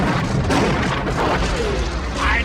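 Robocop's Cobra assault cannon fires in a loud, dense barrage of booming, crashing blasts that run continuously with no pause or voice over them.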